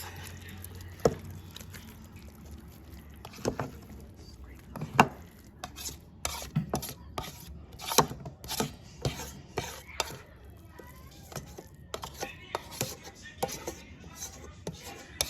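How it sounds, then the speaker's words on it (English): Vegetables and sausages for a jambalaya are tipped and stirred into a pot, heard as a run of close scraping, clattering and rustling knocks in an irregular rhythm with no voices. "Now we're gonna throw in the vegetables and the sausages."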